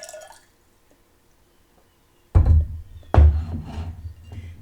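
Water falling into a vessel during a water communion ritual, two sharp splashing pours about a second apart, each trailing into gurgles and drips after a near-silent pause.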